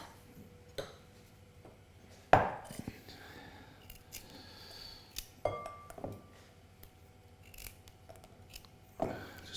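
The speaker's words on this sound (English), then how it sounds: "Just topping and tailing the carrots and peeling all our vegetables." Sparse knife knocks on a chopping board while carrots are topped and tailed and vegetables are peeled in a home kitchen, a few sharp taps spread over quiet room tone with occasional faint clinks.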